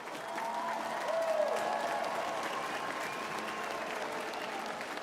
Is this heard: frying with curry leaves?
no